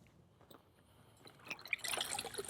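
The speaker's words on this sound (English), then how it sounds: "We'll be wringing out our sponge here." A car wash sponge being wrung out after a rinseless wash, water dripping and trickling faintly at first, then splashing louder in the final second.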